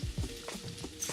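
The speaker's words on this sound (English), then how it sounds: "stick it in with my onions and my garlic and saute" Onions and garlic sautéing in a pan for mini frittatas, a brief close sizzle with a couple of soft stirring scrapes.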